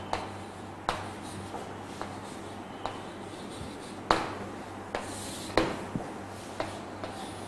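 A marker or chalk on a board in a chemistry lesson on salt hydrolysis: faint, close scratchy strokes that come in short, irregular bursts, with no one talking.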